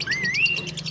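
A native chick gives one thin, rising chirp up close, short and clear over faint background noise.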